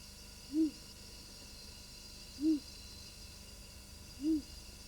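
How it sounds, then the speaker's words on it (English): Owl monkeys call on a moonlit night in the forest, giving three soft, low hoots spaced about two seconds apart over a quiet, steady background hiss. "On moonlit nights, owl monkeys call."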